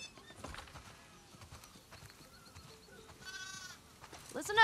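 Sheep in The Last of Us Part II bleat faintly on a farm. A few thin wavering bleats rise over soft background game ambience, and a louder bleat comes at the very end.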